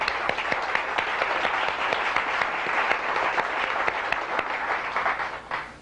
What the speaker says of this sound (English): I think we ought to give her a clap